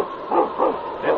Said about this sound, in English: It's King, swiftest, strongest lead dog of the North Country